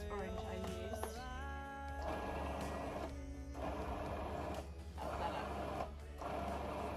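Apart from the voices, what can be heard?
Magimix food processor mixing mince pie filling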